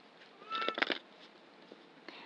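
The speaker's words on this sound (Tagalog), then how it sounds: "nag-iingay yung mingming ko" A pet cat meows at a closed door it wants through, a brief, fairly faint cry with a couple of quick scratchy knocks after it in a quiet room.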